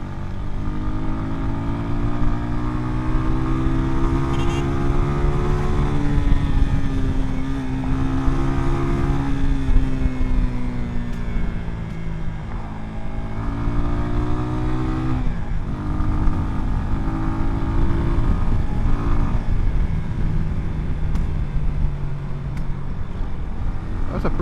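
A Jamaican 'Yeng Yeng' motorcycle runs nearby and loud for a long stretch, its engine note rising and falling with revs over a constant rumble.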